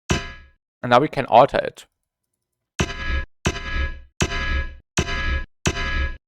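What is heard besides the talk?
atonal bass sound in compression plugin demo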